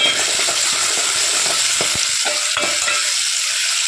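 Ingredients sautéing in a pan, a close, steady loud sizzle with frequent soft taps and scrapes of a stirring spoon throughout.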